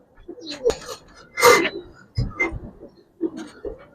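Pigeons, Giribaz and colouring breeds kept in a loft, give several low cooing calls in loose bursts over the span, fairly close and moderately loud, with a brief louder flutter-like burst midway.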